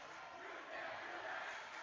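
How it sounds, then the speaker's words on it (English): Faint, steady crowd roar at a boys high school basketball game, Glacier Peak at Jackson, a diffuse wash of voices swelling slightly, heard from a distance. "And the crowd getting into it."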